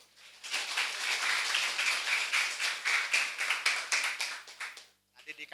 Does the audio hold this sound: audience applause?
yes